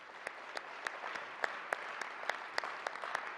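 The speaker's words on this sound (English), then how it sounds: "let's give her a round of applause for getting this all together" Thin, distant applause from a college convocation audience, with a few sharper claps standing out over a faint, steady patter.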